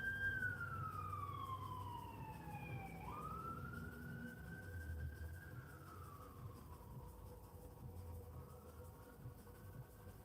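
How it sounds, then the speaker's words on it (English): A wailing siren sweeps up and down over steady traffic rumble, fairly distant and passing along the street, with no voices. "Usually you hear the siren from further away"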